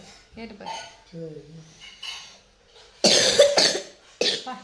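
Several harsh, bursty coughs close to the microphone, coming after a stretch of quieter voice sounds, with a final short cough at the end.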